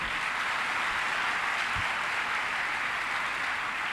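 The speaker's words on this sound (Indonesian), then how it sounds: "Tepuk tangan untuk beliau." Steady wash of applause from an audience at an Indonesian police ceremony for newly commissioned young officers, moderate in level and continuous throughout without talk.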